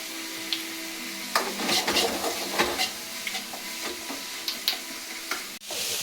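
Finely chopped onions and green chilies, salted, soften in a pan for a Kerala mushroom stir-fry, with a soft sizzle under repeated scraping strokes of a spatula and a few sharper clinks near the end.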